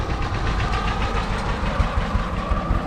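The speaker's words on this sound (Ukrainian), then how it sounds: "Трактор поїхав, як має бути." A diesel tractor engine, its rear tire flat, chugs steadily with a knocking rhythm, moderately loud and continuous throughout.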